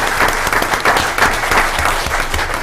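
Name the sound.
applause for city employees at council meeting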